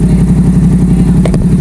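Motorcycle engine idling close by during a road rage encounter, a steady loud low throbbing pulse with a brief clatter near the end.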